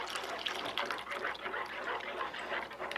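Cream pours into a warm pot and is stirred, giving a soft continuous liquid trickle and sloshing with small wet drips, fairly quiet and close, with no voices.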